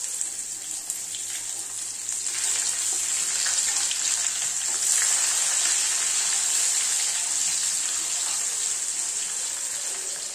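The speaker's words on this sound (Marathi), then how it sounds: "आता त्यामध्ये मी कांदा घालते फोडणीला." Chopped onion sizzles steadily in hot oil with crackled cumin tempering for a Kolhapuri egg curry, a continuous close hiss that swells slightly and holds for about ten seconds with no talking.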